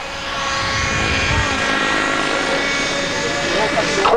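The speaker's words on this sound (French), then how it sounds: "l'hélicoptère va descendre avec simplement l'inertie de ses balles, sera freiné dans sa chute" A helicopter descends in autorotation with its engine cut at a 1981 flying meeting in Yverdon, giving a steady, loud rotor whir with tonal blade hum while a voice talks over it.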